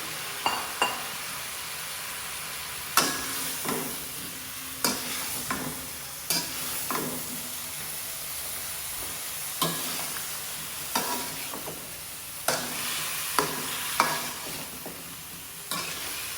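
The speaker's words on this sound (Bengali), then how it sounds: "এখন আমি লাউটাকে সুন্দর করে ঢেলে দিচ্ছি" Bottle gourd tumbles into a cooked-down spice masala for a prawn curry and is stirred, a soft steady sizzle broken by regular spoon scrapes and light taps against the pan, fairly close and quiet.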